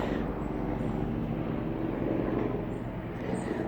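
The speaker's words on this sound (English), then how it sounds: "pause for the helicopters going overhead" Helicopters pass overhead above a backyard garden, a steady, fairly faint rumbling drone that stays even throughout with no voices.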